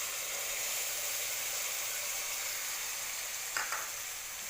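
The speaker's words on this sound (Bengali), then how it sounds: "এখন মশলাটাকে ভালো করে কষিয়ে নেব" A ground paste of cumin, turmeric and green chilli with salt sautés in a pan for a katla fish curry with ridge gourd and potato, giving a steady hissing sizzle and one brief stirring scrape near the end.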